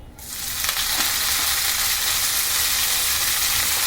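Fenugreek leaves fry in oil in a pan, giving a steady, loud sizzle. The hiss starts at once and holds evenly throughout, with soft stirring touches. No one speaks.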